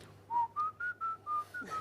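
A person whistles a song's melody alone, in a short run of clear, sustained notes stepping up and down in pitch.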